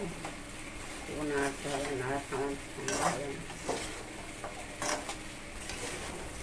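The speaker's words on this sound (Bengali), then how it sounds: "এটা কিন্তু ঘন ঘন নাড়তে হবে ঘন ঘন না নাড়লে এটা তলায় ধরে যাবে" Jaggery mixture for katkati sweet being stirred in a pan, a scraping, sizzling stir repeated in an uneven rhythm, close and moderately quiet, with a voice talking over it.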